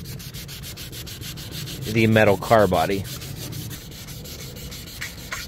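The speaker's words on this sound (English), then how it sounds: "Again, wetting and sanding with horizontal motions." Close rhythmic rubbing of wet sandpaper by hand on a hazy plastic car headlight lens, worked in horizontal strokes with a steady gritty scrape; someone speaks briefly partway through.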